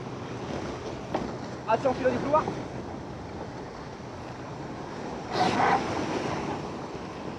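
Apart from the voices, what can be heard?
sea waves and wind while sailing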